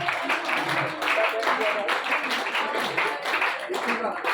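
Applause in a college auditorium at a youth festival for a painting prize winner, a moderate steady clatter of hands with voices mixed in throughout.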